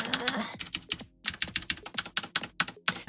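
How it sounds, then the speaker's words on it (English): Someone types bare-handed on a computer keyboard, with quick irregular bursts of clacking keystrokes separated by brief pauses, close and clear with no talk. "I'm gonna take these gloves off for typing."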